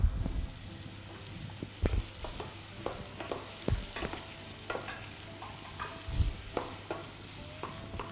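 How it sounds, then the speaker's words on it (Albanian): Squash and herbs including thyme being stirred in a frying pan, with repeated scraping strokes of a utensil against the pan over a soft sizzle, close and fairly quiet. "I trazojmë së bashku dhe i lëmë këtu në tigan"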